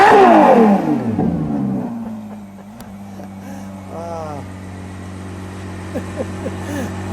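A 6.5-liter V12 in a 2021 Ferrari 812 GTS revs loudly and then settles into a steady idle hum. Short blips and voices talking can be heard over the idle.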